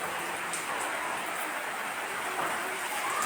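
Steady rain falls outdoors in a wet street setting during the rainy season, a dense, even hiss with no breaks, moderately loud and without talk.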